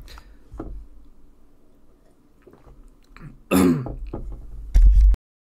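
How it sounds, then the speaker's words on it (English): A single person coughs and clears their throat after choking on water, a couple of sharp harsh bursts close to the mic near the end, with quiet rustling before them. "That was just a natural cough."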